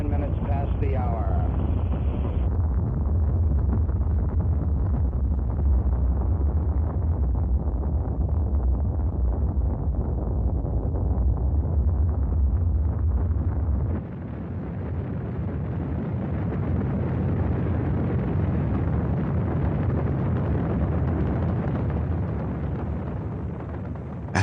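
Apollo 11 Saturn V rocket engines roaring at launch, a massive continuous low rumble with crackling distortion that persists throughout, shifting in tone partway, with a voice speaking over it.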